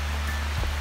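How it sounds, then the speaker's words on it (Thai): Heavy rain falls in a forest, a dense steady hiss of drops pattering on leaves and surfaces that sounds close and unbroken through the short moment. "ตายแล้วฝนตกหนักแล้วเนี่ยลุง"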